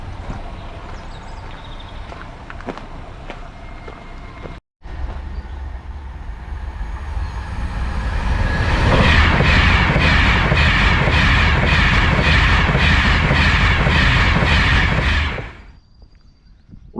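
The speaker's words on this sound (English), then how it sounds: "Of course, just my luck, I get caught by the trains on the way back as well" A train passes close by, its rumble building to a loud rhythmic clatter of wheels over rail joints that holds for several seconds before quickly fading away.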